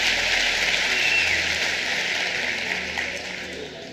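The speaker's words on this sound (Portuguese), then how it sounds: "Vamos lá, vamos dar um aplauso." A church congregation gives sustained, even applause, a dense hiss-like clapping texture that holds steady and eases slightly toward the end, with no voices standing out.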